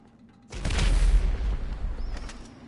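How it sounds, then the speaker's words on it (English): A firework bursts in the video game GTA 5 with a sudden deep boom, then crackling and a fading rumble over a couple of seconds. "Oh, that's firework."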